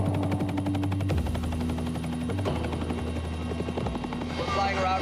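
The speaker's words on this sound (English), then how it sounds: "We're flying around right now in the Pemex helicopter" Inside a Pemex helicopter flying over Mexico, the rotor beats in a fast, steady chop with a constant loud engine drone filling the cabin throughout.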